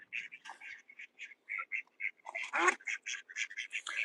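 A group of ducks quacks repeatedly, close and clear, in quick overlapping calls that come one after another without pause.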